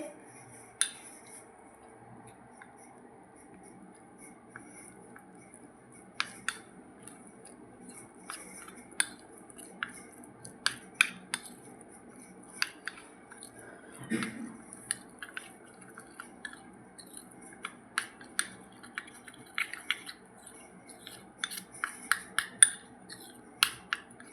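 Turmeric beauty paste being mixed in a small bowl. Quiet, irregular scraping taps and clinks of the spoon sound close up against a near-silent background, growing busier toward the end.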